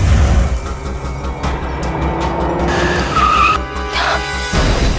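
A car braking hard to an abrupt stop with tire squeal, its engine cutting out, loud and close with no talking.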